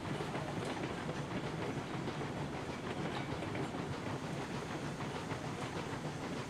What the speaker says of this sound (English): we just about got all the train through that switch